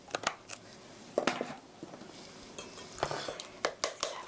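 Eggs with a teaspoon of vinegar being beaten in a bowl, a series of sharp clinks and scrapes from the utensil against the bowl in an uneven rhythm, close and fairly quiet.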